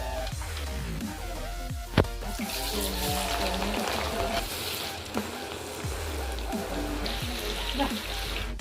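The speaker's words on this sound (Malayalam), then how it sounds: "ഇപ്പം ഇത് നല്ലോണം പൊരിഞ്ഞു വരുന്നുണ്ട്" Jackfruit pieces frying in a pan of hot oil give a steady sizzling hiss throughout, with a few sharp pops, while a person talks over it.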